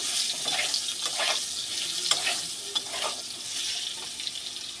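Potatoes and pointed gourd frying in a pan with a pinch of salt, a soft, fairly quiet sizzle with intermittent scraping bursts from stirring, no voices.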